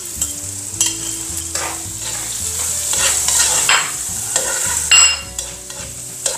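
Garlic and chopped onion sauté in a pan, loud and close. The sizzle runs the whole time, repeated spatula scrapes and stirs sit on top, and a low steady hum plays underneath.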